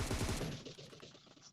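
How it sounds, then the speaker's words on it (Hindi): Single-shot MK14 rifle fire in PUBG Mobile, a burst of close, loud reports in the first half second that decays into a fading echo tail, with no talking. "तो भाई MK14 चल रहे थे सिंगल में, टैप टैप करके मुझे मारने की कोशिश कर रहे थे।"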